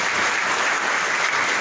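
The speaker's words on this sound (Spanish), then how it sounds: "Un merecido aplauso" Steady, close applause from a lecture audience after a talk on the Paschal cycle in the Old Testament, a brief continuous burst of many hands clapping.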